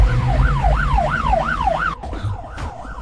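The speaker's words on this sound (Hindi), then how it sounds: "ये तो पुलिस का सायरन है।" A loud wailing siren sweeps rapidly up and down in a repeating yelp pattern, close by, over rumbling traffic noise before cutting off abruptly.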